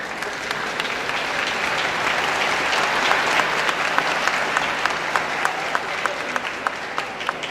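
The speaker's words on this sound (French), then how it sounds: "Veuillez vous mettre debout et les applaudir." A seated audience applauds a graduating computing class at a graduation ceremony, with steady, dense clapping that holds evenly throughout, some sharper individual claps standing out near the end.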